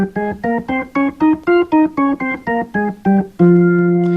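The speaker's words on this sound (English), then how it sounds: "The F natural minor scale." Organ tones step through the F natural minor scale one note at a time, evenly spaced, then settle into a longer held chord at the end.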